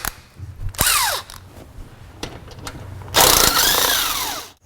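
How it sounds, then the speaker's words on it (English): Two 10mm bolts come out on a C7 Corvette Z06 during an intercooler install, loud close bursts of a power tool whining up and down, a short spin first, then a longer one after a pause. "we're going to remove our two 10mm bolts."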